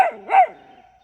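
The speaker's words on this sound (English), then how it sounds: "this is what I get to listen to everywhere I go, is a dog barking and carrying on" A dog gives two quick, close barks, the second slightly longer and trailing into a faint whine, with no talking.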